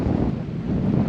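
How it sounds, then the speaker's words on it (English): Steady, roaring wind gusts across the microphone on a seaside fishing outing in Okinawa, a continuous low rumble with no pauses and no voices. "It's still windy."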